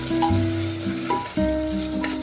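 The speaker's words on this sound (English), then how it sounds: "After frying for a while" Onion, king chili, crushed ginger and garlic sizzling in a frying pan for a spicy buffalo tailbone dish, a steady close hiss with brief stirring clatters and tonal utensil rings.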